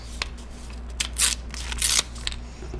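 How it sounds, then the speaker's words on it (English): Something being ripped out, a leaf or plant material torn in a few short, crisp bursts of tearing and rustling, close and fairly quiet over a low steady hum. "Go ahead and rip it out."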